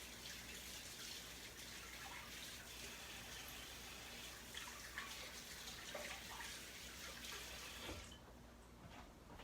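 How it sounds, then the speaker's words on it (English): Tap water runs steadily over a meat separator being rinsed in a kitchen sink, a continuous broadband splash that cuts off near the end, leaving a quieter drip and trickle. "I'm gonna just rinse the meat separator a little bit."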